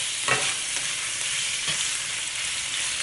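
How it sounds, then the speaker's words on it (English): Shrimp stir-fried over high heat in a pan, a continuous bright sizzle broken by a couple of sharp scraping stirs, close and fairly loud with no voices. "เราก็ผัดกุ้งให้เขาสุกพอสุกนะคะพอออกสีส้ม"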